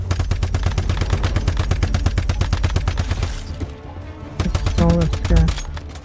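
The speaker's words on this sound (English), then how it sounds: "They're just shooting randomly somewhere." Rapid automatic gunfire from enemies in a video game event, a loud dense string of shots for about four seconds, then a pause and a few more bursts, with a voice speaking over the end.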